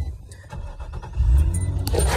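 Car fitted with a 6-speed manual swap, an 04 G35, pulling away in first gear: a low engine rumble that swells as it moves off, with clicks and jangling close by and no talk.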